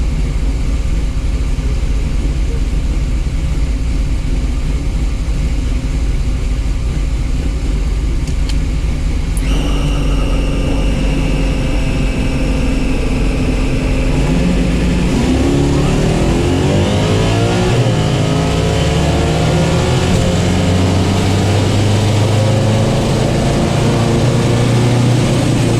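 A stock-appearing drag racing car launches down a quarter-mile strip at an NMCA event, its engine droning at idle before a sudden loud burst of revving and a rising, sweeping acceleration sustained to the end.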